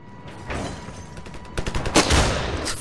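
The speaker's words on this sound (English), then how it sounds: "Fuck off with your shotgun." Shotgun fire in the battle game Ravenfield, with a few quick loud blasts clustered together amid general battle noise, close and sharp.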